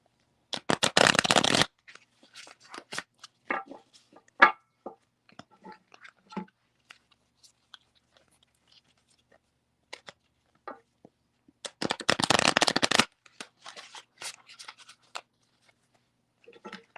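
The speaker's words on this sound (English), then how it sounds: "let me shuffle these cards real quick, Denise" Tarot cards being shuffled during a live reading, two loud bursts of riffling a few seconds each, separated by quieter card taps and handling, close to the mic.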